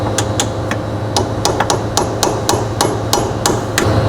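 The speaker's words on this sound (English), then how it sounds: "It's probably a bit corroded, so you might have to tap it in." Repeated sharp hammer taps drive a corroded ball joint stud home during a Corvette C5/C6 suspension kit install, about a dozen irregular metallic strikes, close and loud, over a steady low hum.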